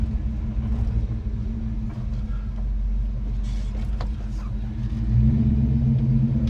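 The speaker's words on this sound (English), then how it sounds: "Oh, that engine sounds so healthy." A 1964 Chevrolet Nova II engine rumbles steadily from inside the moving car, a low continuous drone that swells a little as it accelerates near the end.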